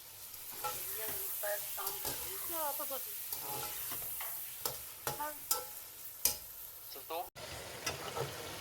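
Chicken browning in a pan for spaghetti, with a steady close sizzle and occasional stirring scrapes beneath a voice talking throughout.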